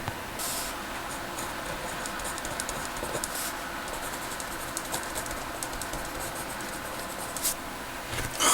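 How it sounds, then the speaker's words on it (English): A BIC multi pen converted into a pencil writes on paper with a steady, close, soft scratching of graphite that carries on without a break, faint and alone with no voices. "Let's have our first writing test with this. Multi-pen converted to pencil."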